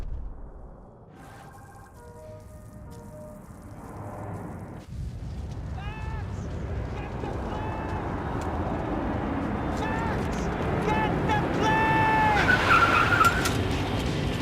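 A car engine revs and tires skid with screeching squeals in Max Payne 3, building louder toward the end, with scattered game effects and no talking.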